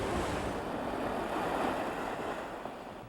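Ocean surf rolls in a steady, loud wash along a Maui coastline, with broadband roar and some wind noise and no pauses.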